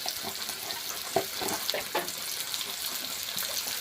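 Onion and green chilli sizzle in hot oil in a home kitchen, a steady close frying hiss broken by a few sharper pops and spatters, with no voices.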